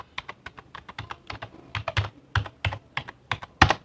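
Fingers type a web address on a computer keyboard in a steady burst of sharp, close key clicks of varying strength, with one louder keystroke near the end and no voices.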